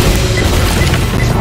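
Grenade explosion in the video game Left 4 Dead 2: a loud, close, sustained boom that fills the whole moment, dense and rumbling with no voices over it.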